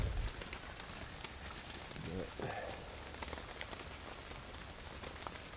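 Steady rain falls on a bushcraft campsite in Indiana during a thunderstorm, a dense, even patter of drops holding at moderate loudness through the whole stretch, with a brief, faint low rumble partway through and no voices.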